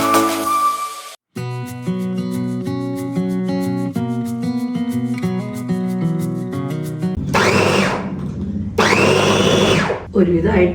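A kitchen mixer grinder chopping cut beans runs in two loud, harsh whirring bursts with a brief stop between them, following a stretch of background music.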